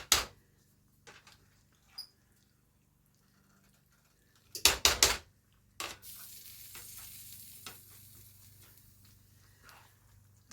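Stuffed pepper casserole ingredients are mixed in a pan: sharp scraping clatters of a utensil against the pan, followed by a steady soft sizzle from the hot pan, with no talking.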